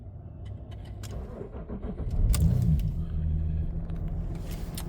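Diesel engine of a Jaguar XJ X350 Sovereign cranking and catching, settling into a steady low idle rumble close by, with no talking.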